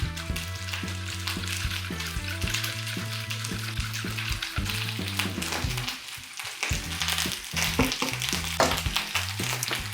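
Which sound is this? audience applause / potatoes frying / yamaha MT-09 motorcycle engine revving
potatoes frying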